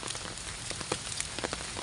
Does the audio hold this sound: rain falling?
yes